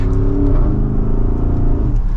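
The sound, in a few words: sports SUV engine accelerating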